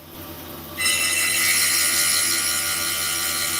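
A knife blade is pressed against the running belt of a belt knife skiving machine used for splitting leather, raising a loud, steady, high-pitched grinding whine that starts abruptly after a low motor hum and holds without letup.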